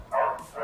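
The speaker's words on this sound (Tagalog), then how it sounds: "yung aso ni Myles, ano pa rin" A dog gives a single short bark, followed by a softer second yelp, heard close and brief with faint background noise.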